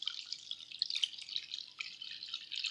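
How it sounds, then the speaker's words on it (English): Water poured into a pan of warm melted butter for Korean twisted doughnut dough, a steady close trickling, splashing stream that runs continuously for a few seconds with no voices. "Now I am going to add my water."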